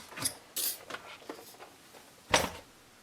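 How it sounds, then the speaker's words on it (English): A Sizzix die-cutting machine and its metal dies are shifted aside on a work surface, making a few close clunks and scraping knocks with quiet gaps between them, ending in one louder clatter. "I shall take my machine and all of the dies out of the way"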